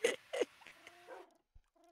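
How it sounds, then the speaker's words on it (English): A male dog whines and whimpers close by in a few short, high, nasal bursts, then gives thinner drawn-out whimpers that trail off into quiet. "You got my dog in heat over here."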